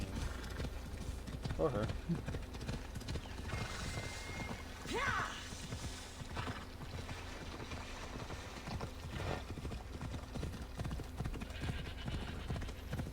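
Steady clip-clop of horse hooves trotting in the video game Assassin's Creed Odyssey, soft and rhythmic beneath two men chatting over the gameplay, with a faint whinny-like cue.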